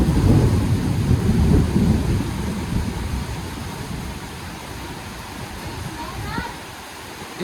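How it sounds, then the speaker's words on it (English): Low rolling thunder rumbles through a rainstorm, a broad heavy roar that slowly fades over several seconds against steady rain. "Thunder should come any second."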